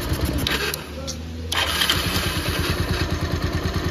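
Bajaj Pulsar motorcycle with a carburettor problem, its engine revving up briefly and then dropping to a rough, uneven idle that sputters as if about to stall, with someone talking over it.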